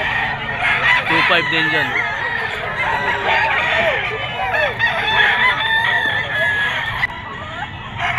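Stag rooster crowing repeatedly at a busy Bocaue pet market, loud and close, with clucking fowl and someone talking over the birds.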